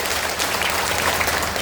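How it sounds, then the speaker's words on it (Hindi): Crowd applause at an outdoor political rally for Prashant Kishor, a dense, steady wash of many hands clapping close by, with no voices over it. "एक बार जोरदार ताली बजाइए आदरणीय प्रसाद जी को"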